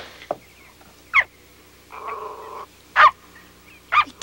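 A small dog growls and yelps indoors at close range. Short snarling bursts come in a ragged series, with a longer low rumbling growl between them. No one speaks.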